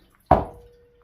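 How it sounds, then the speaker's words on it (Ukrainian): Cooked food is tipped out of a pot into a colander in a home kitchen, giving one sharp splash and clatter that rings briefly and fades, alone. "Я викидаю це на друшлячок."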